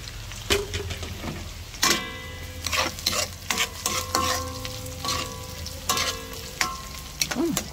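Squid balls frying in a hot pan with oil, a steady sizzle under repeated clacks and scrapes of a utensil stirring them, close and fairly loud with no talking.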